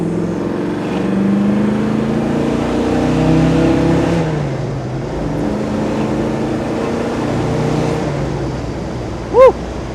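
1967 Chevrolet Chevelle SS convertible pulling hard after a downshift on an open-top drive, its V8 rising, easing and rising again at close range, with wind noise throughout and a brief sharp chirp near the end.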